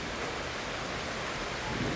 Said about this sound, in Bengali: একটা না বৃষ্টি হচ্ছে